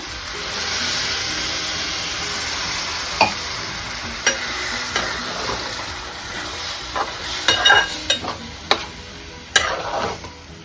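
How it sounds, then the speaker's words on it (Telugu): Frying ridge gourd curry sizzles and hisses steadily as milk is poured in and stirred, with scattered sharp crackles and pops rising near the end; no one speaks. "ఇప్పుడు ఇందులో పాలు పోసేసుకున్నాం పోసేస్తున్న పాలు"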